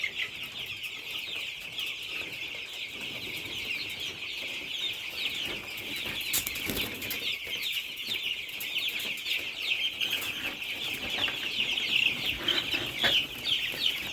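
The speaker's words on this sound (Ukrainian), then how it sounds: "А це півник Ломан Браун." Eleven-day-old Lohmann Brown chicks, including a small cockerel, keep up a dense, continuous chorus of high peeping and soft clucking, close and steady throughout with no voices.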